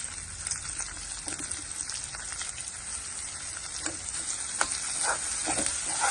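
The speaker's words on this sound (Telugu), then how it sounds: "ఇక్కడ ఇవి వేగుతున్నాయి." Cashews fry in a pan with a steady, fairly quiet crackling sizzle that holds throughout, with a few soft stirring taps and no speech.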